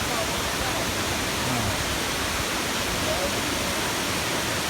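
Laurel Falls on the Appalachian Trail pours in a steady, dense rush of falling water, loud and continuous with no breaks.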